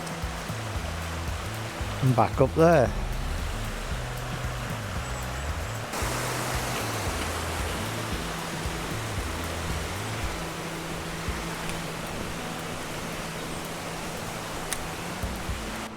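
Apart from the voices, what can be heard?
river flowing in Chee Dale, Peak District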